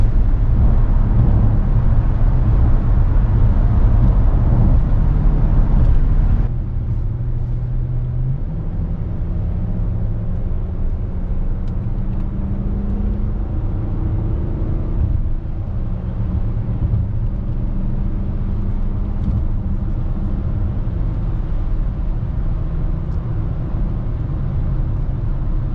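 A Range Rover L405 cruises in sixth gear at about 2,500 rpm on a wet road, a steady low engine drone and road rumble from inside the cabin, louder at first then settling into an even hum.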